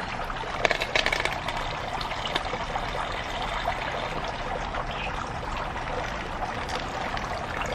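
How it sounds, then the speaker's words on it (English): Water pours and splashes out of a container in a steady stream, with a few sharper splashes early on, close by. "I'll dump some of the water out."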